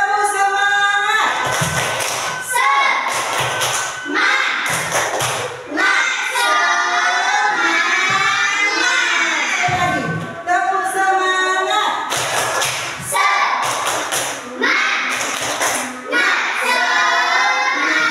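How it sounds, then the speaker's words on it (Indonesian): Schoolchildren in an Indonesian primary classroom perform the 'tepuk semangat' spirit clap, with bursts of rhythmic hand-clapping set between loud group chanting and singing, the class voices dominating throughout. "Sebelumnya supaya semangat, kita tepuk semangat ini."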